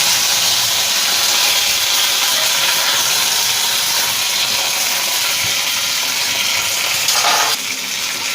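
Dried red chillies and curry leaves sizzle in hot oil in a pan for a Tamil plantain stem stir-fry, giving a loud, continuous bright hiss that dips briefly near the end.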